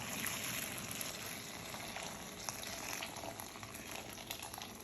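Boiling water pours steadily into a bowl over asparagus for blanching, with a bubbling, hissing wash, continuous and moderately close, with faint clinks mixed in.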